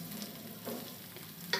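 Chopped onion, thinly sliced potato and whole cumin seeds fry together in a pan, giving a soft, close, steady sizzle with a brief clatter of stirring at the end.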